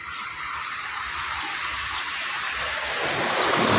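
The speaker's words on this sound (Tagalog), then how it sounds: "Kaya pa yung dagat dito mga ka-fishing. Kalmadang kalmada." Calm sea waves wash along the shore at Ilijan, Batangas, near a power plant, heard as a steady broadband rush mixed with wind that slowly swells louder toward the end, with no voices.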